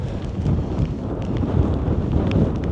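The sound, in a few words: wind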